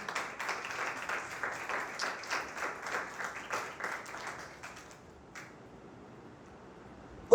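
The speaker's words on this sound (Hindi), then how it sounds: "यीशु मसीह के लिए जोरदार तालियां बजाएं" A church congregation at a Sunday meeting claps in rhythmic unison, a steady beat of applause for about five seconds that then fades to near silence before a sharp final sound.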